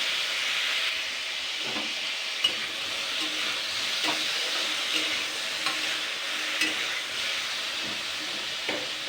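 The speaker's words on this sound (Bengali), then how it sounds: "এবার আমি জল দিয়ে দেবো।" Water goes into a hot pan while jhinge jalbora, a ridge gourd dish, cooks, giving a steady loud sizzling hiss with occasional soft stirring clicks and no talking.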